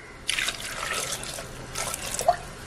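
Water pours from a container into a pressure cooker holding turmeric powder, a gurgling splash in two short bursts, moderately close and with no talk.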